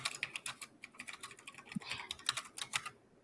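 Rapid clacking keystrokes on a mechanical keyboard, close and fairly loud, in an irregular flurry of sharp clicks with no talking.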